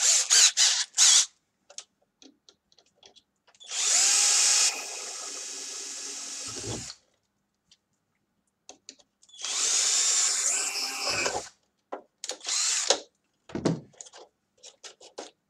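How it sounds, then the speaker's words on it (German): A power drill with a 4 mm bit whirs in two long bursts of several seconds each while drilling a Bruder MAN TGS toy truck model, loud and close, separated by quiet gaps with scattered clicks and handling noises. "Da bohren wir jetzt einfach mit einem Viererbohrer einmal auf."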